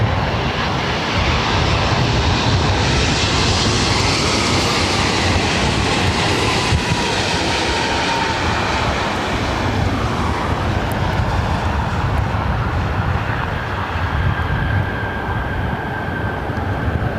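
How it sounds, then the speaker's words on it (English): A United Airlines Boeing 787-10 Dreamliner from Tokyo Haneda lands on runway 24 right at LAX, a loud continuous jet roar with a broad rushing wash and a faint whining tone that holds steady throughout. "This is United Airlines Flight 38 coming in from Tokyo Haneda on the 787-10 Dreamliner."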